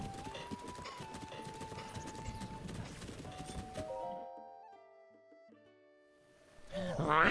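Hooves of the royal family's white horse clip-clop in rapid rhythm in Zelda: Breath of the Wild, then give way to tonal game sounds and a brief louder burst at the end.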